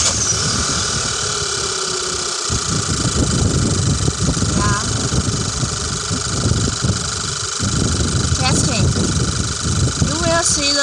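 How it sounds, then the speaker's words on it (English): Car engine cranking and catching to a steady idle during a load test with a digital car battery tester, a mid-pitched continuous engine hum with short beeps, while someone talks over it. "Yeah, start engine."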